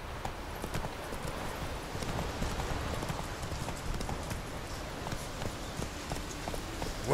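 Roach, the horse in The Witcher 3, trots with a steady rapid clip-clop of hooves over a constant ambient bed, moderately loud throughout.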